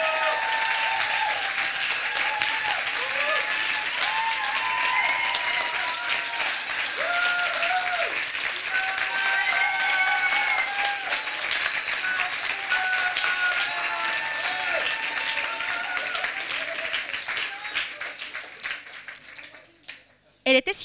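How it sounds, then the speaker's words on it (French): An audience at a regional doctoral thesis presentation contest in Fribourg applauds the candidates, sustained dense clapping that holds steady for about fifteen seconds and then tapers off. "J'aimerais que vous fassiez d'abord un énorme applaudissement aux candidats qui vont maintenant se présenter."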